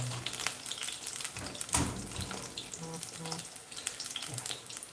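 Jamaican fritters fry in a very hot pot, giving a steady crackling sizzle with occasional scraping or stirring sounds and faint clinks, close and fairly quiet.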